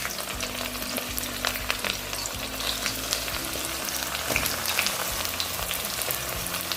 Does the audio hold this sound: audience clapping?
no